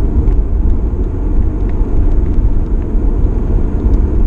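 Hybrid car cruising at 100 km/h in parallel mode while charging its battery: a steady, loud low rumble of road and engine noise inside the cabin, with no pauses.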